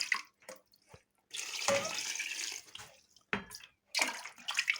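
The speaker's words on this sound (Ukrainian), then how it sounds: "Даємо сюди холодної води." Cold water splashes and runs into a pot in bursts, a steady pour lasting a couple of seconds between shorter trickles and clinks, close by with no talking.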